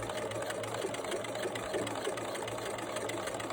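Sewing machine top stitching a fold of fabric on a two-colour face mask, a steady low mechanical whir running continuously with no breaks.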